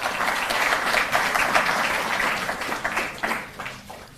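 A hall audience applauds steadily to welcome the higher education secretary at a Delhi sports policy event. The dense clapping holds at a fairly loud level for several seconds and then thins toward the end.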